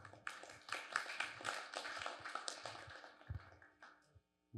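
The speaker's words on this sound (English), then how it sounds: "We just don't get a lot of clapping after people ask questions" An audience applauds at a business Q&A session after a question, with a dense patter of many hands clapping for about four seconds before it cuts off abruptly.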